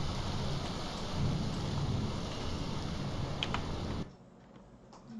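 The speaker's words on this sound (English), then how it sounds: "Wonderful, it's raining and it's quite loud." Steady rain and rumbling thunder in the game Morrowind fill the first four seconds as a dense, loud wash, then drop abruptly to a quiet hiss.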